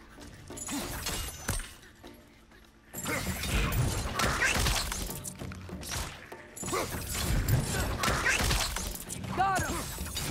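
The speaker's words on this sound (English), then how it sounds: "Smash the little guy's head." Smashing an enemy's head in God of War Ragnarök, with loud repeated crashes, shattering hits and heavy impacts over game noise, and a quieter stretch before the violent bursts resume.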